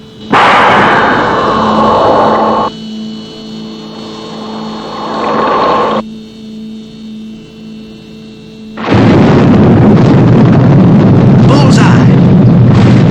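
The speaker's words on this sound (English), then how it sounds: "Missiles fired on 25-degree calculated error. Target ship destroyed." Missile launch and target ship blowing up in a 1960s TV puppet series, heard as a loud roaring blast, a quieter rumbling stretch, another surge, then a sustained heavy explosion roar with tonal hum underneath.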